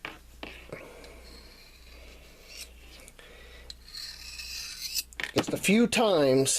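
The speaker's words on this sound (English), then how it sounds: "I just hone that blade" ST-101 pocket knife blade drawn across a carbide sharpener, giving soft rasping strokes under quiet speech before a louder burst of handling noise at the end.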